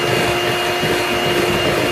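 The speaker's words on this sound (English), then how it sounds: "Just continue whisking this now." An electric whisk beats a caster sugar mixture for a roulade, giving a loud, steady motor whir that runs unbroken throughout with no talking.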